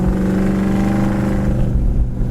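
A 1969 Plymouth Roadrunner V8 with a four-barrel carburetor accelerates, its loud, steady engine roar swelling as the four-barrel opens up, with no voices over it.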